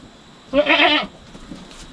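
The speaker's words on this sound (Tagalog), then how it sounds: "Yung tatlo nating kambing, oh," Goats bleat in one loud, wavering call lasting about half a second, close by on a farm, with quiet background before and after.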